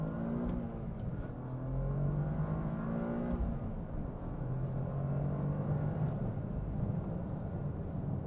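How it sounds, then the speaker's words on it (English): A Toyota GR Corolla engine revs up, producing a loud whirring roar whose pitch climbs, dips and climbs again over a constant low rumble, heard from inside the car. "So let's go ahead and give this a little revs up."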